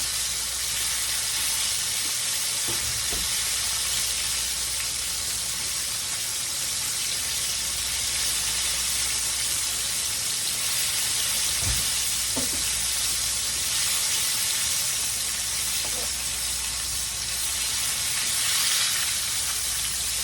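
Fries for a chicken fried steak sandwich bubble in hot oil with a dense, constant sizzle, close and steady throughout, broken by a few soft clinks and stirring knocks.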